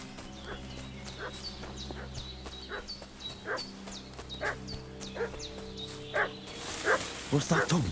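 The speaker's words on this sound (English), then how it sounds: "What's that dog making such a fuss about?" A dog in the video game Kingdom Come: Deliverance 2 barks and fusses repeatedly at moderate distance, sharp yaps with a few whimpers over steady outdoor ambience, growing louder and busier toward the end.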